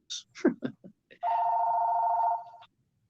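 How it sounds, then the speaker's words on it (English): Hotel room telephone ringing in one long, steady electronic ring lasting over a second, loud and close, right after a few brief spoken syllables. "that sound was brought to you by the phone in my room"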